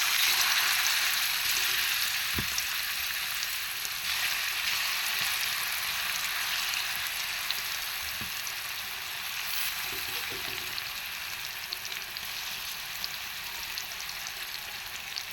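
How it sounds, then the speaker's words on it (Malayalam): Tuna fish pieces fry in hot oil with a loud, continuous, close-up sizzle and a few light knocks, and no one speaks. "എണ്ണ ചൂടായിട്ടുണ്ട്. ഇനി അതിലേക്ക് നമ്മളെടുത്ത് വെച്ചേക്കുന്ന മീൻ കഷ്ണങ്ങൾ അങ്ങോട്ട്"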